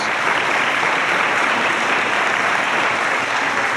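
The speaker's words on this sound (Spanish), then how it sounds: "den un aplauso al Señor por eso" A church congregation claps in loud, dense, continuous applause that holds steady throughout, with no voices on top.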